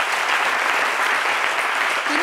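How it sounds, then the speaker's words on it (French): An audience at a French television talk show claps loudly and steadily in dense applause that fills the whole stretch. "On les applaudit très fort"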